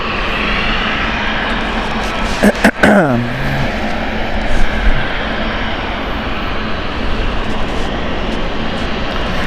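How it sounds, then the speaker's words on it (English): A China Eastern Boeing 777 at Gatwick Airport produces a strong, continuous jet engine rumble, with a brief sharp burst of sound early on before the roar settles and carries on steadily. "But China Eastern 777, there she is there"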